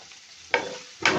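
Spices such as dry chilli powder and cumin stirred in a frying pan with eggs, two distinct scraping stir strokes over a soft sizzle, close and alone.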